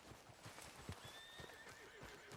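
A horse whinnies in the video game Red Dead Redemption 2, a faint high-pitched neigh over steady clip-clop hoofbeats, heard at low volume without talk.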